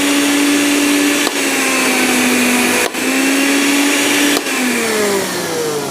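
An electric blender runs on a low-wattage household supply alongside a water pump and an iron, giving a loud, steady whine that dips briefly three times.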